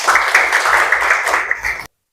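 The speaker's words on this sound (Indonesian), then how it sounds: "Oke, tepuk tangan dulu buat Gilang." Classroom applause for a student named Gilang, a short burst of many hands clapping together, loud and close, ending abruptly after about two seconds.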